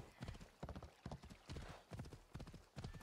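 Horse hooves clip-clop steadily in Assassin's Creed Odyssey, a brisk rhythmic run of close, fairly loud hoofbeats on the ground with no talking over them.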